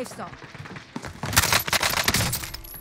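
Rapid automatic gunfire in Modern Warfare on Rebirth Island, an MP5 submachine gun letting off close, loud bursts of shots that dominate the second half after a quieter opening.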